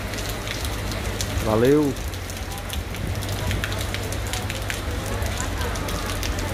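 Light rain falls on an afternoon in Santana do Ipanema, Alagoas, a steady soft hiss of drops on surfaces throughout, with a voice briefly heard near the start.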